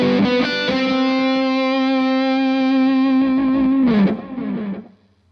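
A sustained solo synth-like tone run through an effects unit with distortion and chorus, holding one loud pitch for about four seconds before bending down and trailing off with a short repeat.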